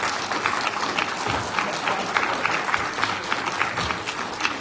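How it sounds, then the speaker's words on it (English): Applause from an audience after a gubernatorial candidate forum, a continuous room-filling clatter of many hands, moderately loud and steady throughout. "I think they all deserve a round of applause."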